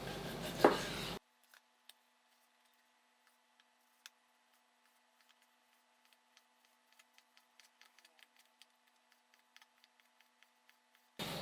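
A knife slices pork liver thinly with faint, sparse taps on a cutting board, the quiet cuts irregular and close, after a brief burst of noise at the start.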